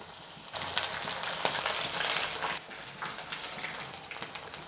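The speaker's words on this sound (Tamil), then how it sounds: "இது போல் எல்லாத்தையும் பொரித்து எடுத்துடலாம்" Mushroom fritters deep-frying in hot oil for a roadside-style mushroom dish, a steady bubbling sizzle that swells as the batter goes in and then holds at a moderate level, without voices.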